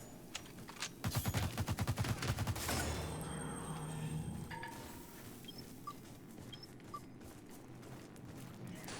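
Rapid bursts of gunfire from the video game The Surge 2 rattle in a fast double-time rhythm for a few seconds, then give way to quieter clinks and faint ambient game sounds.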